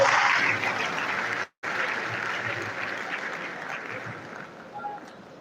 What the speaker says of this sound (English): Maybe please another round of applause for